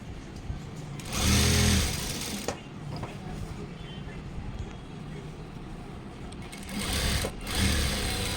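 An electric sewing machine stitches the neckline of a chudithar top in two loud whirring bursts, one early and one near the end, with someone talking quietly between runs.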